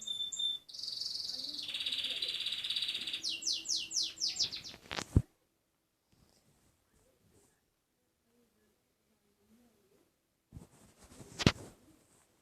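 A pet bird chirps in a run of high, bright, rapid tweets and trills for several seconds, then goes quiet, with a few faint sounds and one sharp louder chirp near the end.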